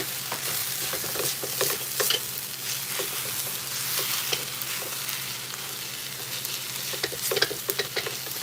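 Butter steak strips and sauce sizzle and fry in a hot pan while being stirred, with steady crackling, scraping and stirring clicks close up, and no talk.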